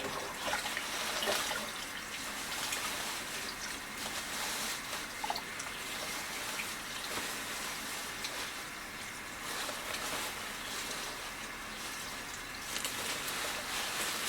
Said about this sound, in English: Okay, so I'm just putting these in some nice cold water.